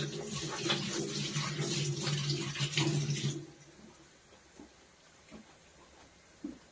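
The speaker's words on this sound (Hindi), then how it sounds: "अब से मैं एक बार हाथ धो के बताती हूँ क्या करना है।" Hands being washed under a running kitchen tap, a steady close rush of water for about three seconds, then stopping, followed by quiet with faint handling sounds.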